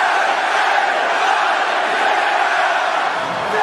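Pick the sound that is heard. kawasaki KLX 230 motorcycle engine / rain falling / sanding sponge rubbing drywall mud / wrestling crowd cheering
wrestling crowd cheering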